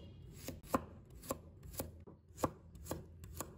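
Garlic cloves are sliced with a knife on a cutting board, giving about eight crisp, evenly spaced chops at close range with quiet pauses between them.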